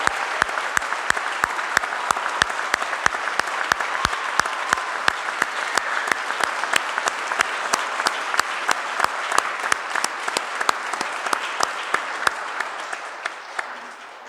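A church congregation claps loudly and steadily to welcome a visiting bishop, dense applause holding for the whole stretch and tapering slightly at the end.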